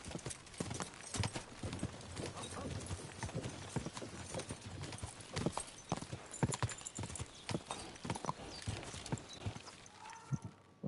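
Rapid clip-clop of a horse's hooves galloping steadily and close in the video game Kingdom Come: Deliverance II, a busy rhythmic drumming that carries through the whole stretch with no voices.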